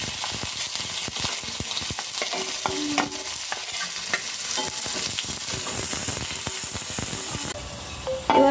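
Chopped onion and garlic sizzle and crackle in hot white oil in a wok, with frequent stirring scrapes and clinks of a spatula throughout, loud and close, no voice.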